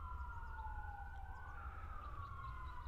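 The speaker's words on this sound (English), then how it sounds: "little siren action for you" A faint siren wails in slow rising and falling sweeps behind a low rumble of background noise, at an outdoor rock crawler competition.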